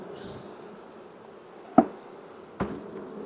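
Honey bees buzzing around an opened hive in Northern Michigan during a supering check, a soft steady drone with two brief knocks from hive equipment partway through.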